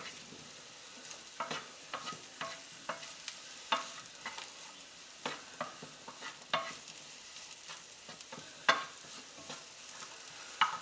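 Garlic and red pepper fry in a pan on a stovetop at medium-high heat, a soft steady sizzle broken by frequent scraping stirs and clicks of a utensil, close and fairly quiet, with no talking.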